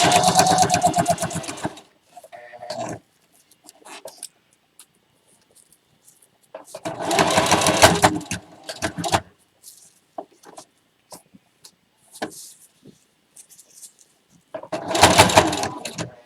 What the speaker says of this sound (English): So I'm just going to sew along the very bottom. Just stitch this all down as close as I can to the edge.